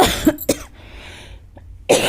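A couple of sharp coughs, close and loud, followed by a brief quiet stretch and another cough at the end.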